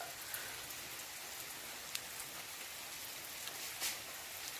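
Rain falls steadily, a dense even hiss of drops on surfaces with a few sharper splashes, fairly soft and continuous with no voices.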